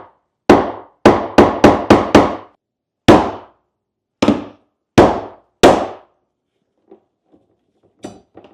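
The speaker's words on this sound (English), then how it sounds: "What most people do is a hammer and a screwdriver like this." Sharp metallic strikes of a hammer driving a screwdriver against a Saab 9-3 fuel tank lock ring: a quick burst of five blows, then slower spaced hits, ending in faint clinks.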